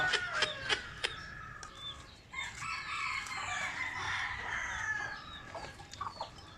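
Chickens and roosters on a backyard flock, with sharp clucks and calls up front and a rooster crowing over the middle, fairly close.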